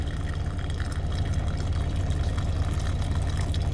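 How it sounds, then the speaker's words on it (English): Hot water is poured steadily onto a pour-over coffee filter, a continuous close splashing trickle over a low engine-like hum. "So just simply put the hot water"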